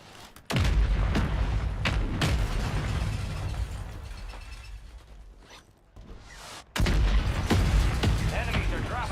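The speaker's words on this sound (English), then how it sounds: "Mortar." Mortar shells firing and exploding in a video game: two heavy, booming blasts a few seconds apart, with rumbling battle noise between them and a voice talking at times.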